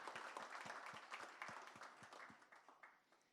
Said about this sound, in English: Large applause.